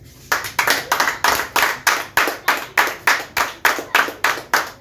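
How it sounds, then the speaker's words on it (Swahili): Congregation at a youth church service clapping together for their neighbors, a steady rhythmic run of about twenty loud hand claps in unison with no talking. "Clap for your neighbor."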